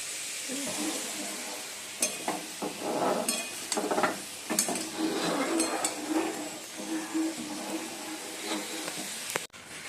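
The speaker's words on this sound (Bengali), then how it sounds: "এই বন্ধুরা আলু দমটা এখন ভালো করে কষিয়ে নিচ্ছি।" Potatoes for aloo dum stir-fried in a pan, with a steady loud sizzle broken by repeated scraping and clinking of a spatula against the metal, close up throughout.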